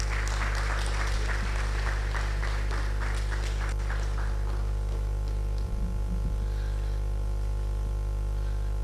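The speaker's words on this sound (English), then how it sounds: "Please give me a round of applause." Audience applause at a public lecture fades after a few seconds under a strong steady mains hum.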